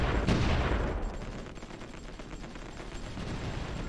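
Artillery fire in the strategy game Supreme Ruler Ultimate: a heavy boom opens the clip, then a dense rumbling stream of distant explosions and crackling shots continues at a fairly even loudness.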